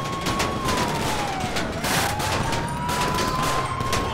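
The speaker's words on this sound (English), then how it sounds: "All right, they shooting at us like crazy." Rapid gunfire crackles in dense, continuous bursts during a GTA 5 LSPDFR police patrol shootout, loud and close, with a siren wailing steadily underneath throughout.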